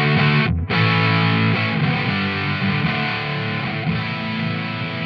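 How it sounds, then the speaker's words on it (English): Electric guitar played through a Mozztronics MD-1 Mew Drive distortion pedal, a dense, saturated rhythm tone sustained loudly throughout with one brief break near the start. "that's just one of the best sounding kind of rhythm distortion sounds I've heard in ages"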